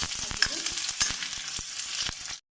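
Onions fry in oil with fenugreek seeds in a kadai, giving a steady, close crackling sizzle broken by frequent sharp stirring clicks, with a brief cut to silence near the end.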